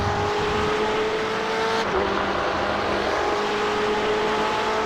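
GTE sports cars in an iRacing race at Circuit de Catalunya accelerating uphill, a continuous droning engine roar with a gear change partway through, close and steady without talk.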